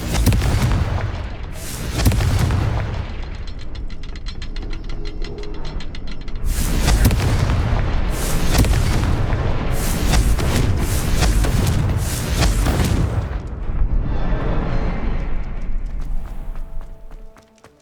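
Confringo spell blasts in the Hogwarts Legacy video game burst out in several loud booms and crackling explosions, layered over rumbling game effects and music, with a few quieter gaps between bursts.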